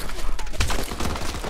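Dense automatic gunfire from Call of Duty Advanced Warfare Exo Survival crackles in fast bursts, loud and close, mixed with a heavy impact and overlapping voices talking.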